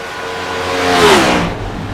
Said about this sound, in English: Cars are so loud this year.